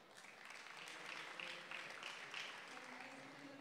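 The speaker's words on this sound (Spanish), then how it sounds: "Un aplauso para Anderson." Audience applause for a presenter at a Lean Startup talk, a moderate, steady patter of clapping from a room of people, fairly faint and sustained for a few seconds without speech.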